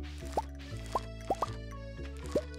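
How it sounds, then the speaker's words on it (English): Watering a single potato crop in Stardew Valley: five quick, bright watery plops over a soft looping game melody, evenly spaced with a paired drip near the middle. "We will water the one potato."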